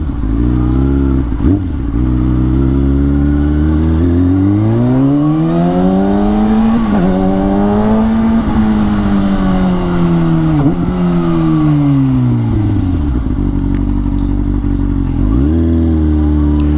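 A 2010 Kawasaki ZX6R motorcycle rides and accelerates. Its loud, close engine note climbs and falls in repeated smooth sweeps through the gears, with a brief drop near the start and another near the end.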